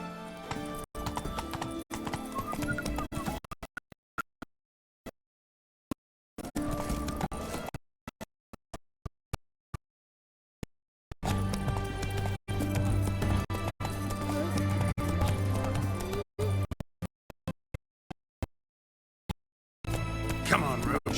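Geralt's horse Roach in The Witcher 3 video game, rhythmic galloping hoofbeats with an occasional whinny, broken by gaps of silence, under game music and voices.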